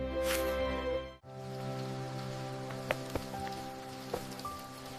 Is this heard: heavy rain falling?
yes